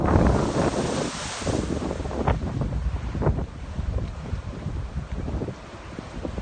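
Giant ocean waves surging and crashing along the Boston shore after a storm, a loud continuous roar and wash of surf overlaid with heavy wind buffeting the microphone, no voices.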